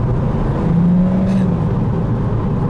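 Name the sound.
JCW Mini Cooper engine revving with slipping clutch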